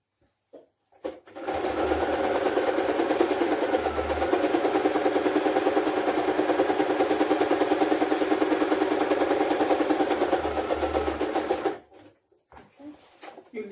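Sewing machine stitching skirt fabric in a steady, fast mechanical whir that runs loud and continuous for about ten seconds, starting and stopping abruptly.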